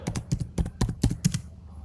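Quick bursts of typing on a computer keyboard, a dozen or so close, crisp key clicks in an uneven rhythm that stops near the end.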